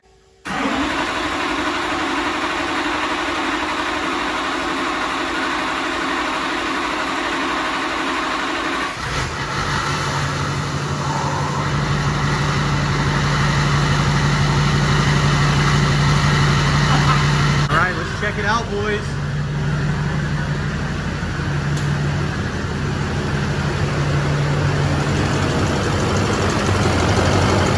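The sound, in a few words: LMM Duramax diesel truck engine idling with loud turbo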